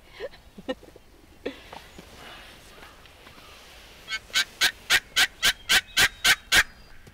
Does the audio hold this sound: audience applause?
no